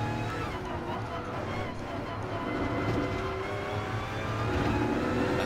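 A Mazda race car in GT Sport gives off a steady, buzzing engine drone with a rough rumble underneath, holding fairly constant throughout.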